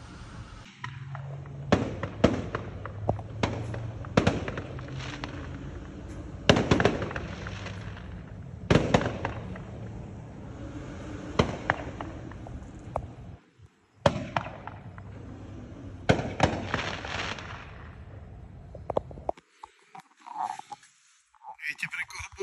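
Fireworks burst outdoors in repeated sharp bangs and crackling volleys, loud and spaced irregularly across the stretch, with a brief quiet gap and someone talking in between.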